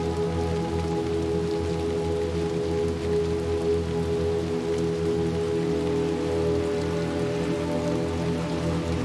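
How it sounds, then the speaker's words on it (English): Steady rain falls in Little Nightmares II, a dense, constant patter on surfaces with a low hum underneath, unbroken for the whole stretch and without any voices. "And the rain."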